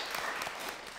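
An audience at a university talk claps in a short, dense burst of fairly faint applause.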